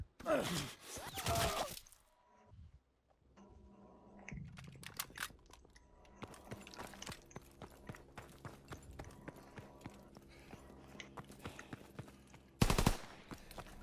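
Call of Duty WW2 gunfire comes as quick bursts of faint, distant shots, mixed with clicking and keyboard-like tapping and a loud burst near the start.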